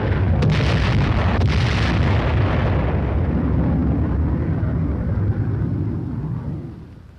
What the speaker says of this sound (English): Once they are spotted, the first flight drops general purpose bombs.